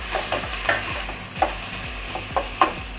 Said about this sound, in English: add the 2 chopped onions, and we are going to saute it well.